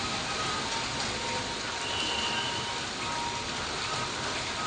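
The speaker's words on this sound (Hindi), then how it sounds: "बैतूल में अभी भी बहुत तेज़ बारिश हो रही है, कल से काफ़ी तेज़ बारिश है।" Heavy rain keeps falling in Betul, Madhya Pradesh, as a dense, loud, continuous hiss that never lets up, with no voices heard.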